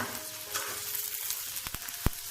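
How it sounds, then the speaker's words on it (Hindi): Onions frying in a pan on low to medium flame, a soft continuous sizzle with a few brief pops and stirring scrapes, close and moderately quiet. "प्याज को हम फ्राई करेंगे लो टू मीडियम फ्लेम पर।"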